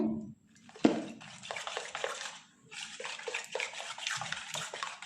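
Egg and salt being stirred into a chicken roll filling in a bowl, giving a close, continuous wet squelching and scraping, briefly paused, with a sharp knock near the start.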